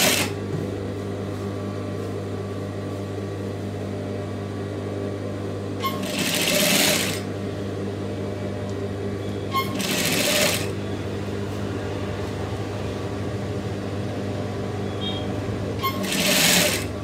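A sewing machine stitches a piping collar onto a churidar neck with a steady, close motor hum and rapid needle chatter, broken by three short louder bursts.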